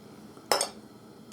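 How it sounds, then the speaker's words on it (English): Ingredients for cod nabe dropping into a bowl, a single clinking knock followed by a faint second tap, close and quiet with no talk. "you put some ingredients in the bowl"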